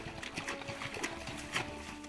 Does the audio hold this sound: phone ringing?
no